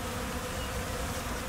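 A steady, dense buzzing of a swarm of bees, continuous and fairly close, with no voices.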